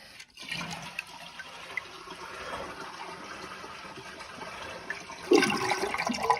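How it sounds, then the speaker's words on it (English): A leaky, noisy toilet tank draining as it flushes, opening with a sharp clunk and then a steady rushing gurgle of water that swells louder near the end, close by and with no voices. "after I drain it the first time."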